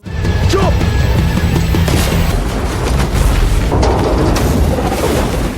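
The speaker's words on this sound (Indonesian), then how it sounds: "James sangat marah karena Johnny telah meledakkan mobilnya" A car blowing up in the action film The Wreck: a loud, dense, sustained roar of blast and crashing debris fills the whole stretch without letup.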